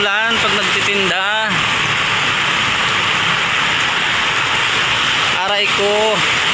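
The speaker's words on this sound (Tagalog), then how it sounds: "Ano ba itong panahon na to? Lagi na lang umuulan pag nagtitinda." Heavy outdoor rain pouring in a steady, loud hiss throughout, with someone talking briefly at the start and near the end.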